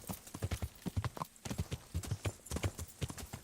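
Horse hooves clip-clop at a steady trotting rhythm in the medieval video game Kingdom Come: Deliverance, with clear repeated hoof strikes and no talk over them.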